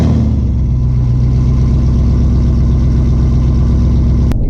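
A Chevrolet Camaro SS drives along, its V8 engine a loud, steady low drone close by and the engine note holding even throughout, with a brief click near the end and no speech.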